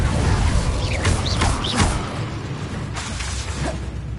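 An Incendio fire spell cast in the Hogwarts Legacy video game, with short fiery whooshes and swishes bursting over a dense, steady bed of game sound.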